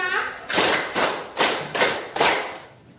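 Five loud, unison group claps in a steady rhythm during a counting game, each a sharp burst with a short echo tail.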